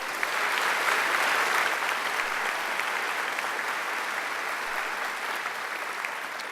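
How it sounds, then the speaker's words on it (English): A graduation ceremony audience claps in sustained, dense applause that stays loud and even for several seconds, with no talk over it. "I think Angela deserves another great round of applause."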